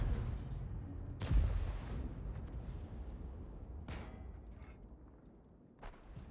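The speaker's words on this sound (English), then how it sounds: "So right here I'm firing all standard rounds, firing up to 720 damage." Three heavy cannon blasts ring out from an Obj 703 II tank in World of Tanks, each a sharp boom with a rumbling tail, spaced a few seconds apart over low steady engine noise.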